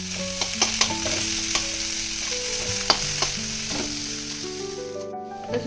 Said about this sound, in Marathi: आपण आता कांदा चांगला लालसर भाजून घ्यायचा.